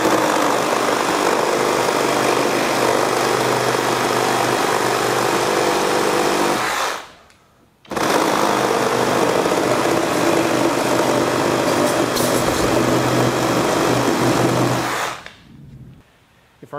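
Flex FX2271 24V brushless reciprocating saw cutting through a 4x4, a loud, steady buzzing rasp held for about seven seconds, a short break, then a second long continuous cut before it winds down.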